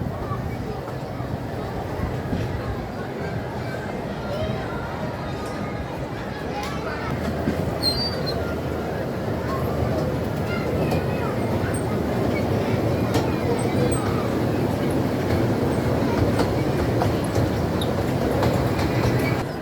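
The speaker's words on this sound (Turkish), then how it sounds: "Bakın trene bindi, şimdi gidiyor." A small amusement park ride train at an adventure park rumbles along its rails, a steady rolling clatter that grows slightly louder, with a voice and other people talking faintly over it.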